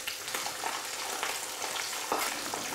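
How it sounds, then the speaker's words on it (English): Mackerel fillet frying skin side down in a hot pan, a steady close sizzle with a few soft crackles and no voices. "Take another piece as well, skin side down again, hold the fish down, keeps it nice and flat, and cook this for about 2 minutes"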